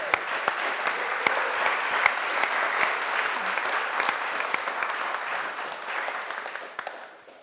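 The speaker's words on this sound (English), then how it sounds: "Let's give them a round of applause." Audience applause for artists at a contemporary art panel at USF, steady dense clapping from a seated crowd lasting several seconds before tapering off, with no talking over it.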